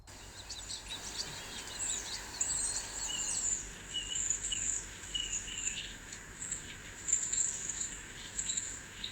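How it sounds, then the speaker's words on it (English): Thin, repetitive AI-generated bird chirps and tweets over a faint steady insect-like drone, somewhat synthetic and evenly looped, soft and distant. "The birds sound a bit mechanical"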